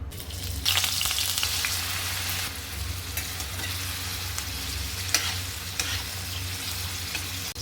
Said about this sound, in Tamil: இதில் ஷாலோ ஃப்ரை பண்ணி எடுத்துக்கலாம்